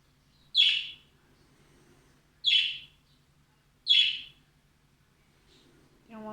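A pet budgie gives three loud, clear chirps spaced about two seconds apart, each a short bright burst, with a faint low hum underneath and a brief extra sound at the very end.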